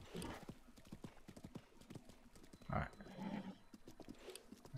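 Hooves of a horse in a video game clip-clop in a steady rhythm, with a brief neigh-like burst near the middle, under and between a man's speech.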